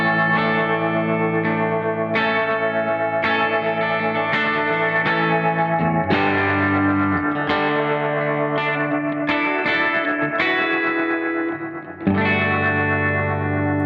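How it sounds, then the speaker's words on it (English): A Gamechanger Audio Light reverb pedal pulses a sustained guitar signal in steady rhythmic tremolo, chords swelling and chopping at a medium rate with washy reverb and chorus-like shimmer, loud and continuous throughout. "turns on and off the optical sensors in a rhythmic way to create a tremolo effect"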